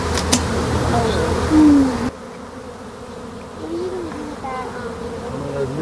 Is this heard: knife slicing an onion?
no